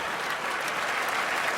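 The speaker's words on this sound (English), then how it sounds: "You're right to applaud it." Comedy show audience claps in a dense, even burst of applause, loud and continuous with no talk over it.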